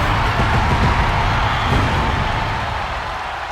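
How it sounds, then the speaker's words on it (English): A WWE crowd in a wrestling arena cheers in a steady, loud roar that fades slightly toward the end. "The entire WWE Universe is cheering on Shaq"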